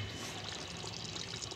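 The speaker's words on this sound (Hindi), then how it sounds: "1/2 गिलास पानी डाल के इसको हम घोल बना लेंगे इसका अच्छे से" Water pours into flour to make batter for a nihari recipe, a soft continuous splashing stream close by with no talking.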